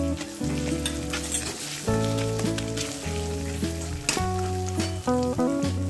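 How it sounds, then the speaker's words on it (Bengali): Ginger paste sizzles steadily in a hot pan in a Bengali village kitchen, with soft stirring scrapes throughout, close and continuous, under a layer of background music. "আদাটাও ভালো করে ভেজে নেব, যেন আদার কাঁচা গন্ধ না থাকে। আদাটা নেড়ে নিচ্ছি।"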